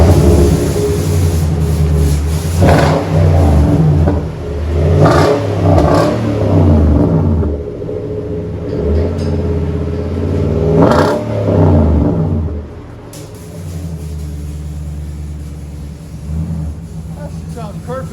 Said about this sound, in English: 2011 Titan 4x4 Flex Fuel. Flowmaster dual in, single out, Super 10.